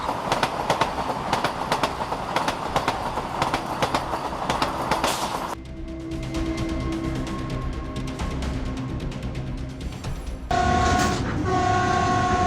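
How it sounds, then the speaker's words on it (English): A train rumbles past with rhythmic clattering wheels, then the tone shifts as cars roll by, and a horn sounds near the end. "the recent collision between a train and a flock of sheep"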